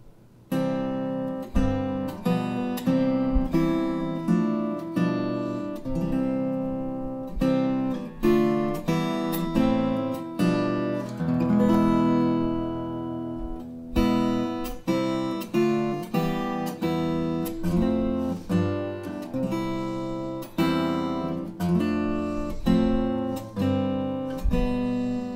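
Solo guitar plays the hymn Lord, Who Throughout These Forty Days, alternating arpeggiated notes and strummed block chords at a steady, unhurried pace, clear and close with no talking.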